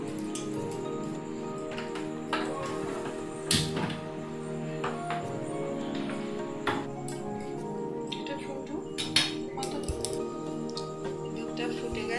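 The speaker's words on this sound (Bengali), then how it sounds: "এবারে এটাকে ভালো করে মাখিয়ে মিশিয়ে দিলাম" Milk powder is worked into just-boiled milk in a pan, giving wet squishing and sticky clicks of mixing with occasional sharper taps, while a voice talks over it.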